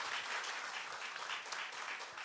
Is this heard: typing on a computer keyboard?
no